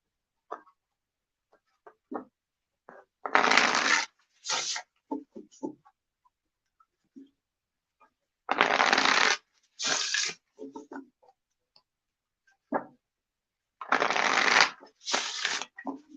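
Oracle cards, a Shaman's Dream Oracle deck, shuffled for a reading in three loud bursts of riffling separated by quieter taps and handling noises, with no talking.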